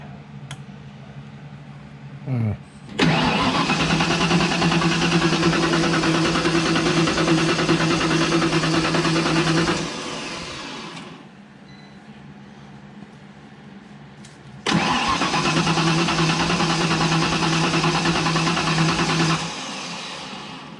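A turbo car engine cranks on its first start attempt without catching, two long, loud stretches of steady starter churning separated by a quieter pause, close by with no talking.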